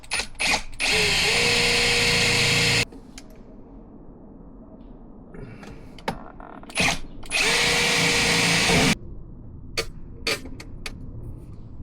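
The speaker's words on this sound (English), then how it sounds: "With a pen, I'm gonna mark the 3 holes that I have to drill to be able to put the fixing screws" Two loud bursts of a power drill spinning up and boring, each lasting a couple of seconds, with quieter handling clatter and ticks between them.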